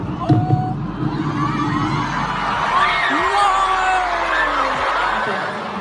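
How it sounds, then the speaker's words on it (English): Concert fans scream and cheer continuously at a pop show, a dense, loud crowd roar with high shrieks and whoops rising over the din throughout. "fans kept screaming as he wanted to have a small talk with them"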